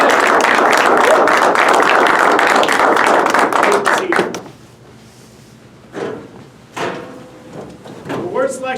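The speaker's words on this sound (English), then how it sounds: "Give a round of applause to our newest Dirt Boys." Clapping from an audience at a military graduation ceremony for a class of Air Force trainees, a dense, loud round of applause that fades after about four seconds, followed by a few quiet sounds and a voice.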